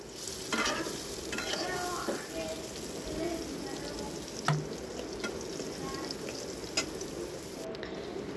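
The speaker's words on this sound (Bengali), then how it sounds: "এর মধ্যে আমি পেঁয়াজ কুচি দিয়ে দিলাম।" Chopped onions fry in oil in a wok for a mutton curry, a quiet, steady sizzle with occasional stirring clinks and scrapes throughout.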